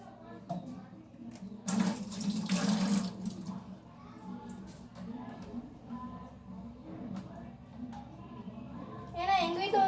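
Water runs and splashes into a container as it is poured and mixed in a home kitchen, a steady moderately loud trickle with louder surges, while a person talks throughout.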